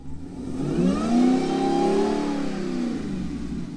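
An off-road Jeep engine revs hard and steadily as the vehicle climbs up over a rock ledge, the mid-pitched roar rising and falling under throttle for several seconds, loud and close with no talking.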